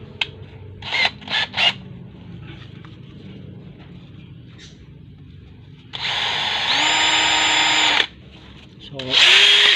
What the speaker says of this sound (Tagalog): So nagpalit tayo ng screw bit, lalagay na natin yung black screw.